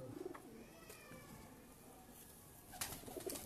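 Soft cooing from a large, shy purebred pigeon, faint and steady against quiet background noise, with no talking.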